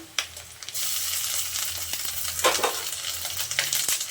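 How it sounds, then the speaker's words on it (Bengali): Onions fried until reddish sizzle in a pan as ginger-garlic paste goes in for an egg pulao. A brief quiet opening gives way to a sudden loud, continuous frying hiss with spatula scrapes and clicks scattered throughout. "পেঁয়াজটা বেশ আমি লাল লাল করে ভেজে নিয়েছি। এখন দিয়ে দিচ্ছি আদা রসুন বাটাটা"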